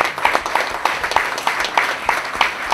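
Hands clap in distinct, closely spaced strikes at an award ceremony in Como, giving sparse applause from a small group with individual claps easy to pick out, fairly close and loud, lasting under three seconds.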